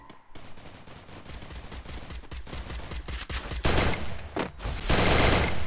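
Rapid automatic gunfire and bursts of shots ring out in an online shooter video game, growing louder and denser toward the end with near continuous firing.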